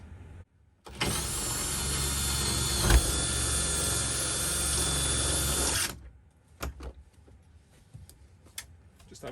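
A power drill bores a hole through plastic for a bulkhead in an Iveco Daily campervan build: one loud, steady whirring burst of about five seconds, then quiet with a few small clicks and knocks.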